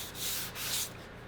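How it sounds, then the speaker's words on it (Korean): Hand sanding wooden furniture, a furniture maker's finishing work by hand: two or three steady abrasive strokes rasp back and forth at close range, broad hissy friction with no voices. "그런 거는 정말 세월아 내월아 계속 샌딩할 수밖에 없어가지고"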